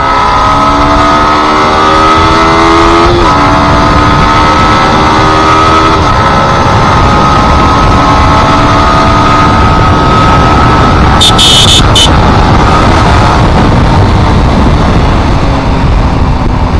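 A Yamaha R15 M motorcycle pulls hard toward top speed, its engine note rising through the gears with brief dips at each shift, loud and close under steady wind roar.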